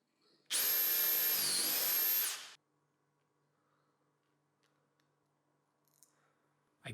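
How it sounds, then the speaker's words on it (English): A drill bores a hole into the front edge of a wooden workbench carriage: a single steady, high whining burst of about two seconds that cuts off abruptly, followed by a quiet room with faint small clicks. "Now I'm going to drill 2 holes in the front edge of the carriage."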